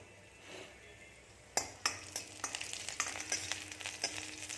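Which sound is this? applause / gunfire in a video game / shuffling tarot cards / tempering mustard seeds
tempering mustard seeds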